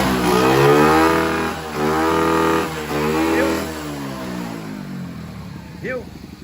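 A 160 cc motorcycle with a very noisy, smoking engine and a clogged filter revs hard in three rising and falling bursts, then drops to a rough idle, loud and close.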